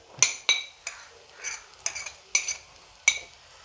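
A metal spoon stirs Kashmiri chili powder, coriander powder and garam masala in a pan for an aubergine curry, giving about eight sharp, bright clinks against the pan in an uneven rhythm, close and clear.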